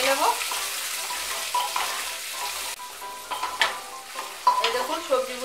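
Vegetables frying in a pan with ginger for Bengali khichuri, a close sizzle broken by clattering stirring scrapes and spoon knocks against the pan.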